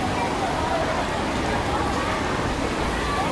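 Steady rain pours down outdoors near a fishing spot, a dense continuous hiss of drops on surfaces with no pauses, loud and close throughout.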